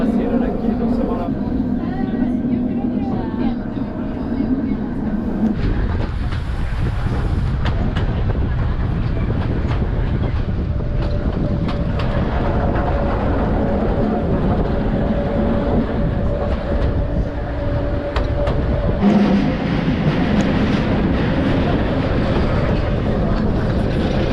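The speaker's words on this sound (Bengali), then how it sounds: "ফেরার পথে উঠে পড়লাম সেই ন্যারো গেজ ট্রেনে।" Continuous rumble and rattle of a narrow gauge mountain train in motion near Mürren, Switzerland, heard steadily throughout with a low droning tone and occasional clunks.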